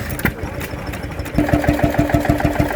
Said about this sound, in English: Now we've got a little Bulldog. Again, American open crank. Probably 1920s, something similar to that. Nice little engine, runs well.